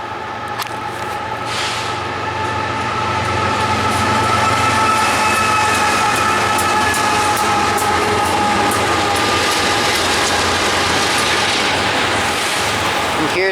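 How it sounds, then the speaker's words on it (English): Train rumbling past nearby in an outdoor woodland setting, a loud steady roar with rail clatter and squeal that swells and stays strong throughout, heard without speech. "And now I think I do hear a train coming this way because it's getting louder."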